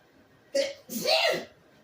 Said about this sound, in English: Dang, I got to sneeze after all that sneezing.